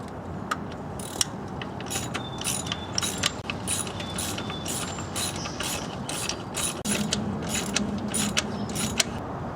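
A hand ratchet clicks repeatedly while tightening the drive belt tensioner on a Nissan Maxima, sharp close pawl ticks in uneven bursts over faint workshop background, with no talk.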